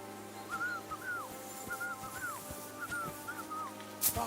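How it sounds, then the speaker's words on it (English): In the video game Kingdom Come: Deliverance, someone whistles a short repeating tune in faint paired notes, looping several times over a quiet, hollow background hum. "Your whistling is getting on my fucking nerves the whole way."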